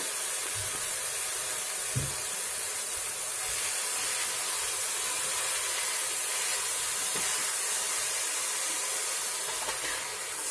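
Grated beetroot sautés in a pan over medium flame, giving a steady, continuous hissing sizzle with a few faint utensil knocks, no voices.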